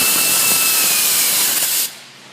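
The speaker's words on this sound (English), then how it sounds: "we'll tighten the other alternator bolt right here." A bolt on the alternator of a Ford Taurus 3.0L 12v engine is tightened with a loud, harsh hissing whir that runs for nearly two seconds and then cuts off.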